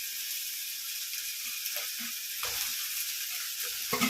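Prawns sizzle steadily as they are sautéed in a pan for a prawn and drumstick thokku, a constant hiss with a few soft stirring scrapes and clinks near the end, close and fairly loud.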